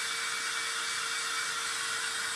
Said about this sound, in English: So I usually just take my dryer, an air dryer.